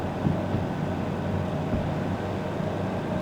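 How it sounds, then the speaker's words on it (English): Locomotive engine cooling fans in the Derail Valley train game, a steady, broad mechanical whir and rumble with low droning tones, continuous and moderately loud. "You can hear the cooling fans on though, just trying to cool that engine down a bit."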